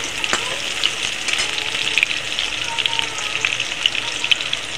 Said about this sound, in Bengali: আলুটা নেড়ে চেড়ে ভাজতে থাকবো।